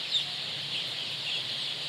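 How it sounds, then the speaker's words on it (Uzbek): A hen and a rooster clucking, soft low clucks among faint farmyard ambience, with one brief sharper call near the start. "Bitta makiyon, bitta xo'roz."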